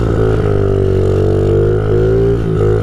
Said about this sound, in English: Revving this thing out.